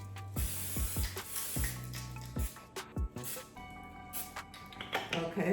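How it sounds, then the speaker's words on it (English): Several short hissing bursts of cooking spray sprayed into a baking dish, interspersed with clicks and clunks as the can and dish are handled nearby. "I'm gonna spray this now lightly with a little cooking spray."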